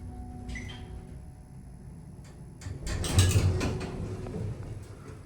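Mechanical clunks and a scraping, rumbling rise in the middle as a Dover hydraulic elevator starts moving, heard from inside the car, then settles into a low steady run.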